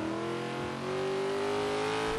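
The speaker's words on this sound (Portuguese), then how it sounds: "Ó o barulho de chuva, que gostoso," A supercar in Forza Horizon 3 drives in the rain, a loud, sustained engine note climbing slowly in pitch over a constant broad hiss of rainfall, with no talking.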